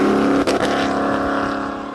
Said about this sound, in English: Listen to the engine on Ian Duncan's pickup.